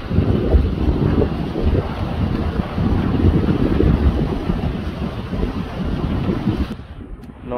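Strong wind blows over open water where fishermen's boats struggle, roaring and buffeting the microphone continuously with churning waves beneath, easing abruptly near the end.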